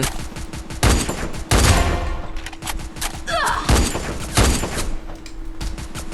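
Bursts of gunfire in the Free Fire battle game, several loud volleys of rapid shots with heavy thumps, separated by short lulls and ringing tails.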